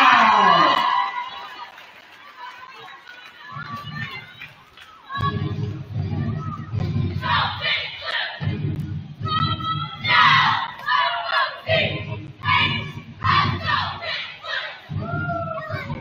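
Crowd at a high school basketball game, with loud waves of shouting and cheering from many young voices, bursting repeatedly over a low rumble of the gym after a quieter stretch early on.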